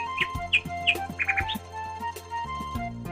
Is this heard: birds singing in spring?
yes